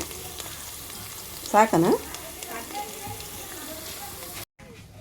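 Oil heating in a frying pan in a home kitchen gives a soft, steady sizzle throughout, with a brief spoken word partway through and a short cut to near silence at the end.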